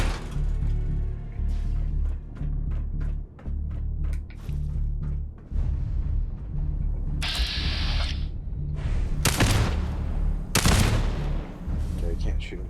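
Gunfire in Fallout 4: a run of sharp separate shots followed by louder bursts and mechanical clatter, close and punchy, with a voice talking between them.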